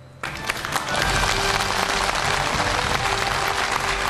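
A television studio audience breaks into sudden loud applause to welcome a guest, the clapping swelling within a second and holding steady and dense, with no talk over it.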